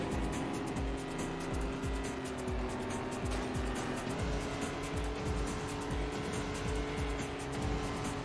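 Race car engine in the video game Hot Wheels World Race, a steady high-pitched drone holding a constant tone throughout, loud and continuous with no talking.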